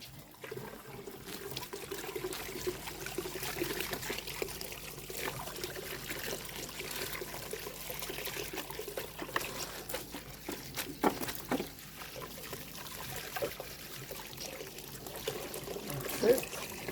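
Water trickling and pouring to rinse the roots of a chilli pepper plant, a continuous splashing and dribbling flow running throughout at moderate level with occasional louder splashes and soft talk underneath.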